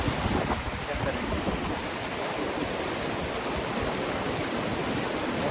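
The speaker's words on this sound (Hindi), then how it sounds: "ये है जी खूबसूरत सी वाटरफॉल, जहाँ पर पानी का शोर बहुत है" A waterfall in Khaplu Valley sends down a constant roar of rushing water, dense and steady throughout, close by and loud with no pauses.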